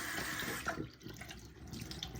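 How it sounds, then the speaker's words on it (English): Warm water runs steadily from a tap into a sink, a continuous close splashing stream with no voices. "I am using nice warm water."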